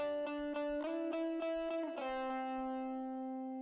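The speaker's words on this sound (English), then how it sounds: "let's hear it with the reverb" A music mix with a reverb effect applied, heard as sustained tonal chords with a series of rhythmic plucked or struck accents, then a long decaying reverberant tail; steady and fairly loud, no voice.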